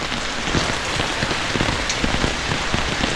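Heavy rain falls steadily onto a surface, a dense, loud, continuous patter with scattered closer drops and no talk.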